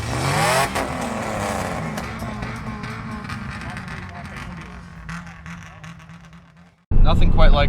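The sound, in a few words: Ford Ranger truck towing a broken-down car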